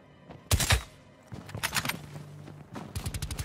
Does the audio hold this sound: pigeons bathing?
no